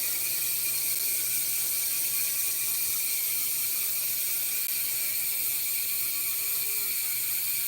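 A steady, rapid ratcheting buzz from the freewheel rear hub of a 2022 Kona Big Honzo DL mountain bike coasting, continuous and fairly loud throughout, with no pauses.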